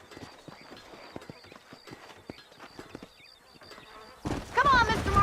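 Horse hooves clip-clop at a steady walking rhythm in Red Dead Redemption, moderately close against faint insect buzz, before a voice starts talking over them.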